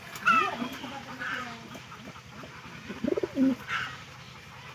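A confined pigeon coos in soft, throaty, repeated phrases close by, with a brief pause midway and a second burst of cooing near the end.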